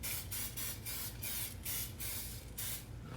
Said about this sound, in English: That first needs to be coated with cooking spray.